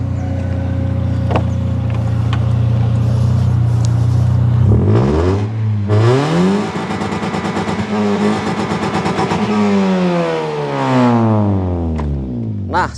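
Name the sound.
Toyota Vios Limo 2013 exhaust revving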